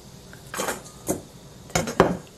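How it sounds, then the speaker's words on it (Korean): A knife cuts a large cabbage leaf into thick strips on a cutting board. About five separate, crisp chops land close by at an uneven pace, with quiet gaps between them. "가늘게 말고 조금 굵직하게 채를 썰어 주겠습니다"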